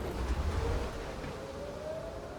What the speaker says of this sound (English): the cap counter is not going off, but the siren is